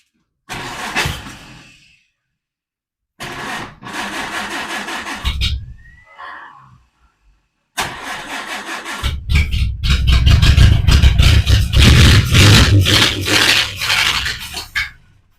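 A 1938 Peugeot 402 Légère engine cold-starting: a few short rough bursts separated by silence, then the engine catches and runs loud and steady with a deep rumbling throb to the end.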